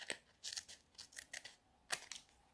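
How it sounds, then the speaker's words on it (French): Scissors make a series of short, crisp snips as they cut a piece of recycled paper envelope, about six to eight cuts in uneven rhythm, close and quiet with silence between them. "je vais venir couper un morceau ici"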